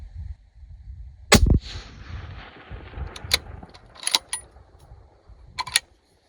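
A Bergara 6.5 PRC hunting rifle in an MDT carbon stock fires one sharp, loud report that decays into a long rumble across open ground, followed by scattered faint clicks and knocks.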